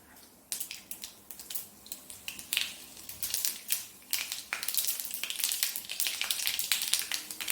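Mustard seeds and dried red chillies fry in hot oil, giving a run of sharp crackles and pops that grows denser and busier over several seconds, close and with no talk.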